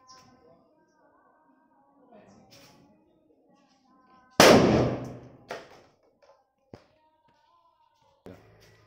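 An aloo bomb firecracker goes off inside a tin can with one loud, sharp blast and a brief clattering rattle of the can. A few smaller knocks follow over faint background sounds.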